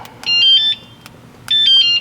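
A golf cart alarm sounding two loud electronic bursts of rapidly alternating high-pitched warbling beeps, each lasting about half a second, separated by a short gap, close and clear with no talking.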